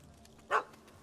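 A single short bark from a puppy in The Witcher 3, one sharp yap standing out over quiet ambient background.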